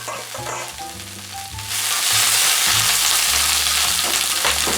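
Chopped garlic and broccoli stir-frying in hot oil in a pan, a steady loud sizzle that swells sharply partway through as the broccoli goes in, with occasional clinks of a utensil stirring.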